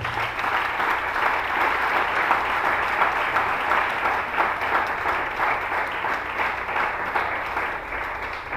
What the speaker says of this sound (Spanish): Dele fuerte el aplauso a Dios por favor.